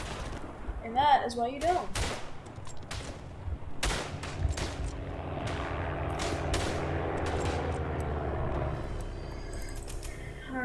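Rifle shots fired from the hip crack out in sharp, irregular bursts in a Verdun First World War trench battle, with distant gunfire and battle rumble behind and someone talking over the start.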